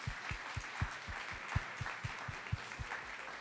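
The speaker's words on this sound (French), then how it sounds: "Une bonne main d'applaudissement." A small audience at a retail conference applauds the panelists, individual hand claps landing in a fairly regular rhythm, moderately close and distinct rather than a dense roar.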